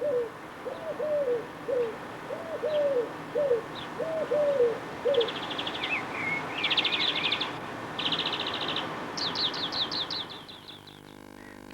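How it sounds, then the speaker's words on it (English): Collared dove song, a repeated three-note cooing phrase sung several times in a steady rhythm, fairly close, followed by other small birds chirping and trilling in the background. "Their endlessly repeated song is a familiar suburban sound."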